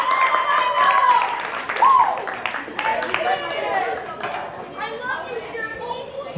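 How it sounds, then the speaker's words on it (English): Guests at a bar mitzvah party clap in a lively burst amid chatter and children's voices, the applause mixed with loud talk and thinning out toward the end. "a nice round of applause for Uncle Michael, everybody."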